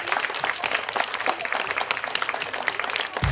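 A school canteen audience applauds two women cooks working in the kitchen during a winter gastronomy festival, with dense, lively clapping that carries steadily and ends with a sudden low thump.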